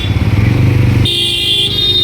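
Motorcycles and vehicles idle and creep through a road traffic jam at Mangaon, heard from inside a bus, with a steady engine rumble joined midway by long, loud horn blasts.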